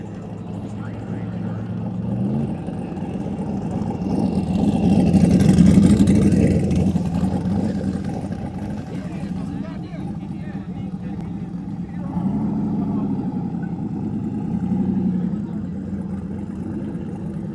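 Drag race car engine idling and running near the burnout box at a drag strip, a low rumbling drone that swells midway and settles, with some people talking nearby.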